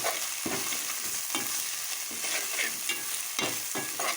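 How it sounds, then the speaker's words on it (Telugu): Mutton coated in turmeric, salt, chili and masala paste frying in a pan, with a steady loud sizzle broken by regular scraping stirs, no talking. "మొత్తం ఇదంతా ఫ్రై చేసేసుకోవాలి."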